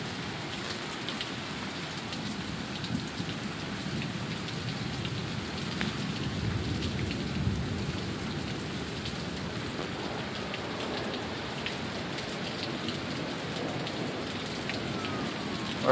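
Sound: heavy downpour rain storm in Sioux Falls

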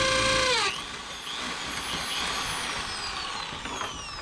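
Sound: drilling a hole for 1993 Galloper pillar trim

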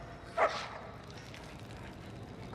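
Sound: dog barking in Mad Max video game

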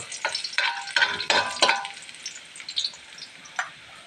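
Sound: onion and garlic sautéing in hot oil

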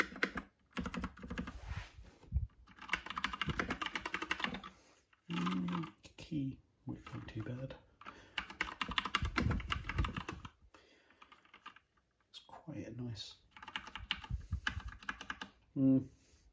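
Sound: typing on Epomaker mechanical keyboard with brown switches

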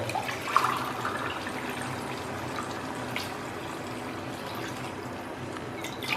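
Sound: pouring water into curry pot

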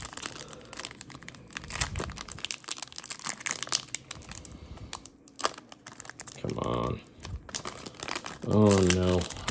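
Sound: tearing open Donruss Elite trading card pack

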